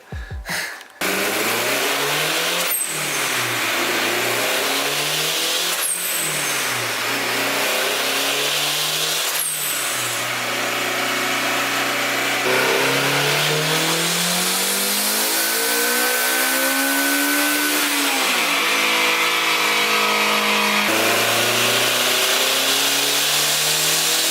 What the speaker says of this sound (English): Today my car's going on the dyno, and I'm super excited.